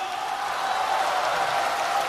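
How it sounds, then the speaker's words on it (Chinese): A theater audience at a Chinese crosstalk comedy show claps steadily, a dense, even wash of applause lasting the whole stretch with no voices standing out. "掌声。"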